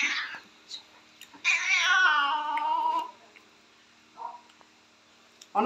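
A house cat meows loudly and close in a long drawn-out wail, with a few shorter mews before and after, in a quiet room.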